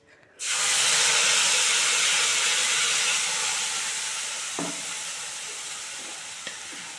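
A ground paste of tomato, ginger and green chili hits hot oil and bursts into a loud hissing sizzle. The sizzle slowly eases, broken by a couple of light utensil knocks.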